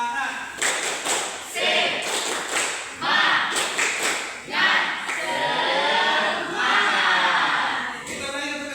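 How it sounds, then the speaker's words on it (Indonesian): A group doing a spirited rhythmic clap chant in a classroom-style session, loud close claps in quick patterned bursts mixed with voices shouting along and cheering throughout. "Tepuk semangat."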